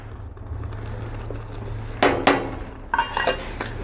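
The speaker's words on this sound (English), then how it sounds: "we're going to put the lid back on here and let this simmer for a little bit longer" A metal lid set back onto a pot of simmering deer chili, two sharp clanks close together, then a second rattling clatter of cookware over a steady low hum.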